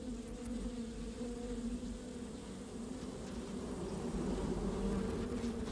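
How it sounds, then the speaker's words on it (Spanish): A swarm of thousands of bees in the Sonoran desert buzzes near their nests, a dense, steady drone that holds at moderate volume without pause. "Se hace muy difícil atacar a una abeja en medio de un enjambre de miles."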